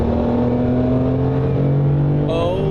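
A Porsche 959 supercar's engine pulls hard as it accelerates, a steady tonal drone with rising harmonics from inside the car, climbing in pitch near the end as revs build, with no talking over it.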